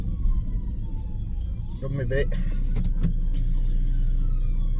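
A police car siren wails faintly from a road while a vehicle engine hums steadily close by, with someone speaking briefly over the traffic noise.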